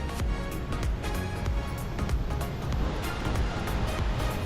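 Sea surf and a waterfall near Antalya blend into a continuous rushing roar, with wind buffeting the microphone and no voices.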